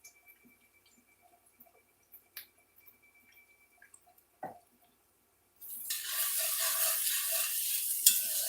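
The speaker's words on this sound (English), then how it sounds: "it's time to stir our onions" Faint scattered ticks and taps in near silence give way to a loud, continuous sizzle as onions fry in a pan and are stirred, a close, steady hiss that lasts to the end.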